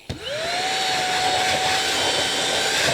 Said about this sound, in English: Take any type of vacuum